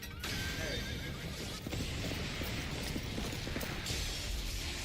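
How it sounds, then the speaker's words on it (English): Horse neighing, a shrill whinny at the start followed by mechanical clatter and clip-clop-like knocking, dense and close throughout without speech. "Yo, he's got a horse."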